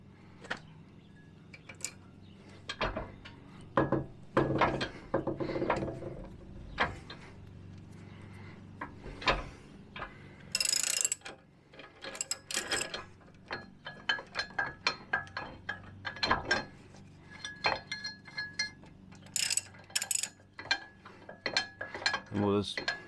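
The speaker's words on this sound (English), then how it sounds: "we just advance the center screw just to get it set up so that we can press the cap" Metal clicks and taps as the center screw of a U-joint press is advanced and set against a U-joint cap on the trail, a long irregular run of sharp ticks and ratchet-like knocks, close and fairly quiet.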